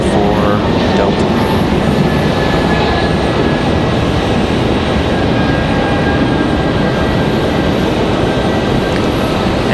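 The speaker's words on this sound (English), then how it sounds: "Here goes Delta to Boston at A220-300. Good looking departure there for Delta." A Delta Airbus A220-300 jet departing Raleigh-Durham for Boston gives a loud, sustained engine roar that holds steady across the stretch, with a faint whine riding above the rumble.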